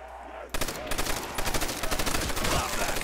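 Rapid automatic gunfire from a weapon shooting zombies in Call of Duty Zombies on a custom baseball-field map, starting abruptly after a brief quiet moment and continuing in dense repeated bursts, loud and close.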